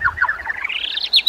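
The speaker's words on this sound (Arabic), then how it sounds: "ألطف الكائنات هي العصافير." A small bird chirps in a quick run of bright, high tweets, close by and rising toward a sharper final call.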